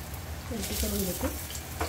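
Raw banana cutlets fry in oil in a pan with a continuous close sizzle and soft stirring and turning noises, with faint talk in the background.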